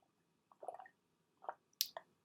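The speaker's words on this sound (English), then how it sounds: "Here I am, taking a sip of water." Someone takes quiet sips of water, with a few soft slurping, wet mouth sounds in short bursts and a brief swallow, close and faint without speech.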